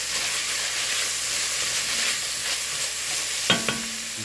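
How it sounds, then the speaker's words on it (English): Vegetables sweat in a pot for black bean soup with bay leaves and seasoning, a steady soft sizzle and hiss throughout, with a couple of light stirring clinks near the end. "I'm just going to let this sweat a little bit more"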